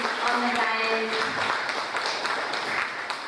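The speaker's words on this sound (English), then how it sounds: "Let us have a huge round of applause for all of" A workshop audience at a nursing college in Bhilai claps for the guests seated on the dais, a steady crowd applause with a voice carrying over it.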